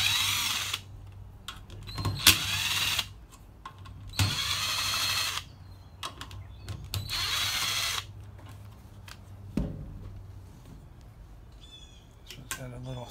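Bolens tractor engine having its clutch screen removed: intermittent bursts of a power drill or driver and ratcheting tool noises, close by, with quiet gaps and clicks between them.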